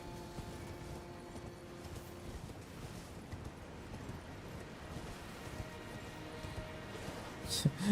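Torrent the horse gallops in Elden Ring, with a soft, steady clip-clop of hooves under wind and ambient noise, faint and continuous throughout.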